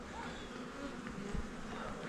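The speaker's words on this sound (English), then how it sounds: "They're starting to open them up, and the bees inside will come out." Bees buzz in a dense, continuous hum around an opened beehive during a hive inspection, close and steady with individual bees droning past.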